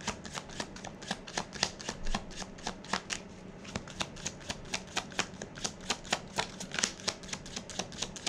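Tarot cards being shuffled and handled at close range, a steady run of quick papery riffles and flicks lasting throughout with no talking.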